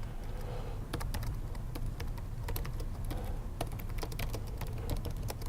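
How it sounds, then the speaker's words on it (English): Fingers type steadily on a computer keyboard while a tweet is written, keys clicking in quick irregular bursts close by over a low steady hum, with no talking. "when I come in here and write the text to this message"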